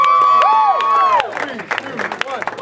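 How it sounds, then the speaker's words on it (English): Party guests cheer and clap for a man's 21st birthday at a lively gathering. A whooping, whistle-like voice comes first, then a dense, close burst of crowd cheering and scattered clapping, with voices mixed in. "Let's give a round of applause."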